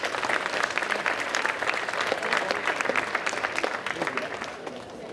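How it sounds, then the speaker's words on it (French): A convention crowd at a cosplay contest jury presentation applauds, a dense, lively burst of many hands clapping continuously and fairly close, with no talk over it. "Je pense qu'on peut également l'applaudir pour tout ça"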